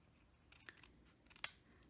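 Scissors snip through Whisper White cardstock while trimming a piece for a pull-out tab birthday card, a few soft cuts building to one sharp, close snip near the end, with no talking.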